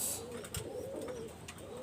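A black male Sialkoti pigeon coos in low, wavering phrases, quiet and near, with a few brief clicks and rustles around it and no talking.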